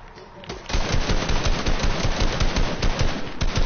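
Rapid automatic gunfire from a weapon in Fortnite, loud and continuous with dense repeated shots and steady recoil rhythm filling the whole stretch after a brief quieter start.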